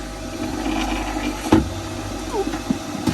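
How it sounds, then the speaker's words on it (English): An air conditioning pump aboard a Nordhavn 47 motor yacht moored at Cowes hums steadily in the background, a continuous low drone with a few brief knocks and clunks. "The noise you can hear is this air conditioning pump running,"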